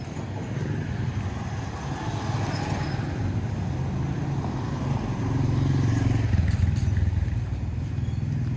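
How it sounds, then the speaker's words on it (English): Steady road traffic in Naga City, with cars and motorcycles passing continuously at close range, a dense, even engine rumble that swells slightly toward the end, with no talk. "There seems to be a little more cars now on the way back."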